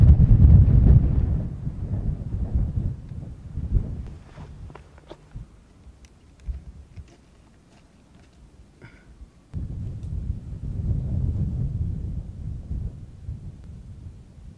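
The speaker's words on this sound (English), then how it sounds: "the wind is coming up" Wind gusting across a high slope of Mt Shasta during a climb, a heavy low rumble buffeting the microphone that drops away midway, leaving faint clicks and rustles, then surges back strongly.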